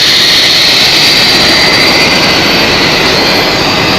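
Loud, continuous jet engine roar from an airliner at Zurich Airport, a steady broadband rush with a high whine, sustained close and unbroken for the whole span with no talk.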